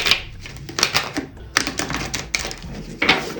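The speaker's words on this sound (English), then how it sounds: "Okay, let me shuffle." A deck of tarot cards is shuffled by hand, giving quick bursts of crisp riffling and tapping clicks in short, uneven runs, close and fairly loud.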